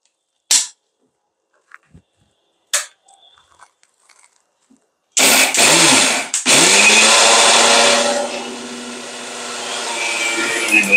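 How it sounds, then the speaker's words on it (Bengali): Kitchen blender grinding rice, coconut and jaggery starts after a few sharp clicks and knocks, then runs as a loud, steady whirring roar that eases slightly as the mixture smooths, continuing to the end. "চালটা ব্লেন্ড করা হয়ে গেছে, চাল, নারকেল, গুড়।"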